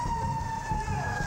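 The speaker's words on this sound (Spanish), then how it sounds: "escuchamos el ulular de sirenas que estaría indicando que se agregan ambulancias" A steady wailing ambulance siren rises and falls over traffic rumble, heard from a moderate distance, at the scene of an embassy bombing.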